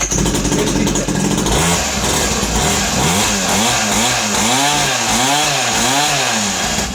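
An electric motorbike that runs about 50 kilometres on one charge self-starts and revs, its motor whine rising and falling in repeated swooping pitch sweeps, loud and close.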